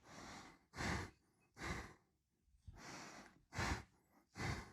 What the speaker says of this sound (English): I'm doing a double exhale because it kind of feels like it makes sense